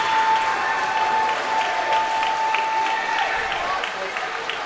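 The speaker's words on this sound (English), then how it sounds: "the cheer that went up when he put it in as well" A lacrosse crowd applauds and cheers after a goal, sustained clapping and crowd noise with a commentator talking over it.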